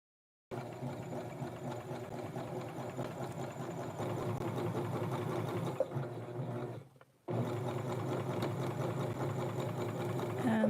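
A sewing machine stitches the collar and sleeves of a Barbie doll's western blouse, running steadily and close for about ten seconds, with a brief pause before it starts again.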